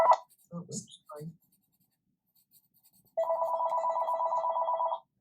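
A telephone rings in an electronic warble, one sustained burst of about two seconds, after some brief talk and scratchy noises at the start.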